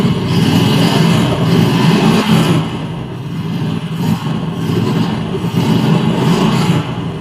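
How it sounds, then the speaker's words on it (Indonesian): Motorcycle engine with a smooth piston runs steadily nearby, a continuous mid-pitched hum that swells and eases slightly without any knocking. "ini adalah suara motor yang pistonnya halus"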